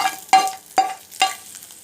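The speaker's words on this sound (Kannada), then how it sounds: "ಎಣ್ಣೆ ಮತ್ತು ಸಾಸಿವೆ ಹಾಕಿ ಫ್ರೈ ಮಾಡ್ಕೊಂಡಿದ್ದಲ್ಲ ಆ ಮಿಶ್ರಣ ಸೇರಿಸ್ಕೊಳ್ಳೋಣ" Fried mustard tempering is stirred into moong dal kosambari with three quick, close scraping strokes of a spoon, each a short sharp swish with brief quiet between them.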